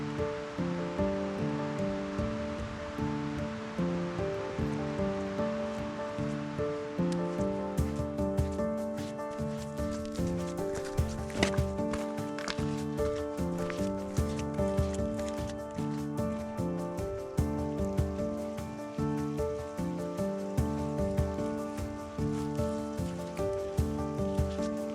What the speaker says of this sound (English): The rain is getting heavier, so time to break out the rain jacket.